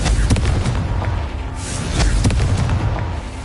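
A Confringo spell detonates in Hogwarts Legacy, a loud booming burst with rumbling blasts and crackles over several seconds.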